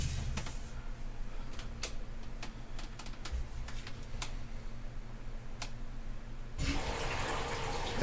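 Water rushing into a washing machine as it fills for a laundry lint test, a steady low wash of flow with scattered faint clicks, growing louder and brighter near the end.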